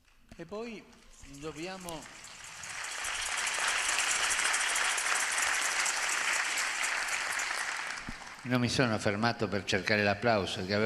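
A large audience at a talk on the economy of Francis breaks into sustained applause that swells and holds for several seconds before fading, with a speaker's voice heard briefly before it and resuming over its tail.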